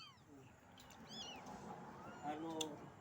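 A cat meows several times, in short rising and falling cries, moderately close, while a household meal goes on around it with faint background noise.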